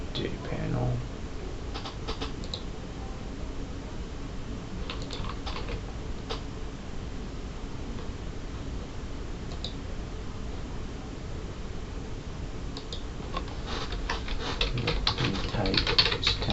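Code is typed on a computer keyboard, with quick bursts of light key clicks recurring through a quiet room and a voice speaking over them at times.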